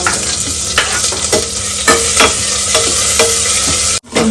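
Onions fry with a steady sizzle in a pan while a spoon scrapes and stirs them in repeated strokes, the frying for a chicken gravy loud and close with no voices.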